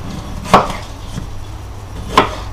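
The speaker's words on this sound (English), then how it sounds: "I'm going to cut them tomatoes into little slices" A knife chops tomatoes into small slices on a board in a home kitchen, two sharp, close thuds spaced well apart, with no talk.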